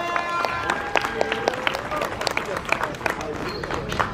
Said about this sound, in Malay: Round of applause to every one of you.